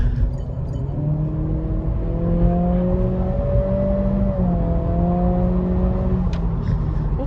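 A 2023 Acura Integra with a CVT accelerates in sport mode, its engine drone rising steadily in pitch, holding, dipping briefly, then climbing again under steady road and cabin noise.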